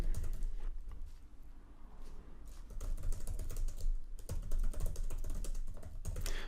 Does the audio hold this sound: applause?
no